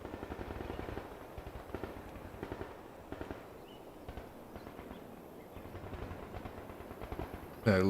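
An MG42 machine gun fires in Call to Arms - Gates of Hell: Ostfront, fast rattling bursts at moderate distance amid battle noise, with a voice briefly at the end.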